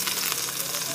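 Chopped onion sizzling in a hot pan for chicken curry, a brief dense steady hiss of frying at close range.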